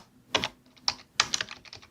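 Keys on a computer keyboard tapped in short bursts while code is typed, with a few distinct keystroke clusters and a quieter run of clicks at the end, close up with no talking.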